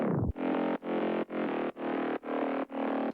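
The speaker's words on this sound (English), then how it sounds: "For processing, I have some Camel Crusher to add some distortion." Mid bass synth notes in a progressive house track, run through Camel Crusher distortion, six gritty buzzing pulses in a steady rhythm, loud and alone after a falling opening note.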